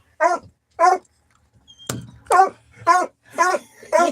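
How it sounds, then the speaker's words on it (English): A dog giving a run of separate, loud, close barks and whining yelps at a steady rhythm, with a sharp knock partway through and no talk over it. "you do hear my dog"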